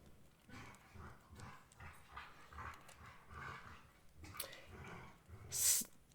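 Two household dogs moving about a room, with soft snorts, breathing and a faint whimper close by, low-level and irregular, plus a brief sharper yelp or squeak near the end.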